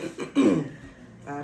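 One short, close adult cough with a throat-clearing quality, followed by a brief breathy sound.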